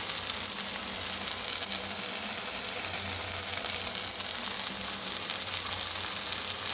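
Masala sizzles and fries steadily in hot oil in a pan while being sautéed for chicken gravy, a continuous close crackling hiss with no talking.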